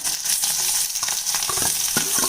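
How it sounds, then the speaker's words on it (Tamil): Onions and green chilies tempering in hot groundnut oil, a bright steady sizzle and crackle with a few sharp pops, close and alone. "நறுக்கி வச்சுருக்க வெங்காயம், பச்சை மிளகாய் சேர்த்துக்கலாங்க"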